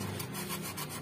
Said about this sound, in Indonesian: barulah kita coba kita amplas ya bagian pinggir-pinggirnya